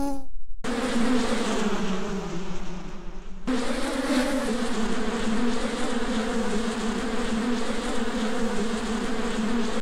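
A swarm of bees buzzes in the Bee Movie video game, a steady, close droning hum with layered wingbeat tones that runs throughout, briefly dipping into near silence before surging back at full strength.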